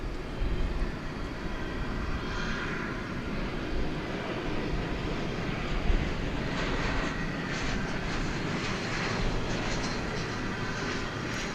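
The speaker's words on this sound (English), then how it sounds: "It's another 777-200 going to Los Angeles, flight 1084." A Boeing 777-200 airliner at DFW Airport at night gives a steady, broad jet roar that holds at an even level throughout, with no talk.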